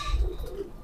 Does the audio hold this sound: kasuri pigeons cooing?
yes